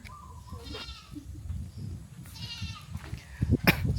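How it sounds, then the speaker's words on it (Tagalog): Goats at a coastal spot on Mararison Island bleat in wavering, nasal calls, several of them near and fairly loud over wind rumble and rustling. "May kambing sila dito."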